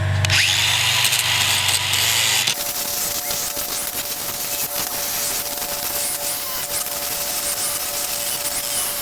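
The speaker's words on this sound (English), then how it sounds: "Should be able to clean that up now with a flap wheel" A flap wheel on a power grinder works over a fabricated steel control arm for a Dodge Dakota suspension, a brief high tool whine giving way to a steady, loud abrasive rasp that continues close up with no talking.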